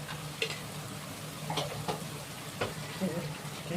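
Masala frying in a pan as a little raw oil goes in, a steady close sizzle hiss broken by a few sporadic spoon clinks and stirring scrapes.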